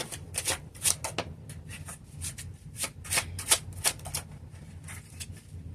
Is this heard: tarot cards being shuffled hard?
yes